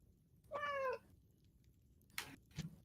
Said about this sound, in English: As Mayo meows.